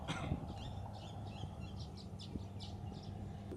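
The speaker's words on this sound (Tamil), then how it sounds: "பின்னுக்கு நிறைய குருவிகள் நிற்குது போல என்ன சத்தம் கேட்குது" Many small birds chirping at a bird sanctuary in Jaffna, a faint rhythmic series of high tweets over a steady low rumble of background noise.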